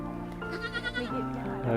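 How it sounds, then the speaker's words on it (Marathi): A young goat, held up close, bleats in short wavering cries, partly under a person talking, in a Konkan village. "आपल्या सुयोगने मस्त इथे एका छोट्याशा बकरीला मस्त उचलून घेतलंय खूप गोंडस असं वाटतंय"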